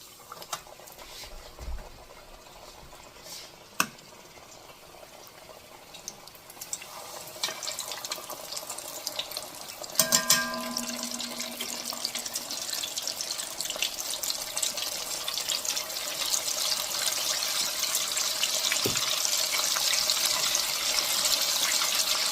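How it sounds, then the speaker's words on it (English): Buttermilk chicken tenders fry in a pan of hot oil, a steady hiss and sizzle that grows louder and denser through the clip, with a few scattered clicks and taps and no talking. "they're going to fry for about 7 to 9 minutes"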